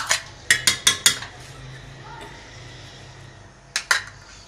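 Chana dal being added to a cooking pot while making haleem: a quick run of four metallic clinks of a spoon against the pot, then a quiet stretch and two more clinks near the end.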